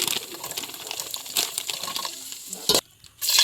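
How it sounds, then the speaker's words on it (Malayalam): Grapes frying in oil, a close crackling sizzle with stirring scrapes, a brief dropout near the end before the sizzle returns. "മുന്തിരി നമുക്ക് നന്നായിട്ട് ഫ്രൈ ചെയ്യാം."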